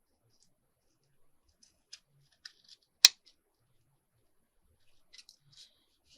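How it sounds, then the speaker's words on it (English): Scissors trimming the edges of paper: a few soft, sparse snips and clicks, then one sharp, louder cut, followed by faint scattered rustles in a quiet room with no voices. "let's turn it over and trim off the edges with my gluey sticky scissors"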